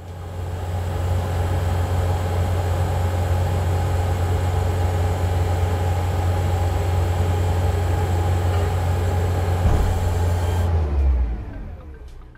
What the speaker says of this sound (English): push the throttle fully and place the boom to the maximum lowering position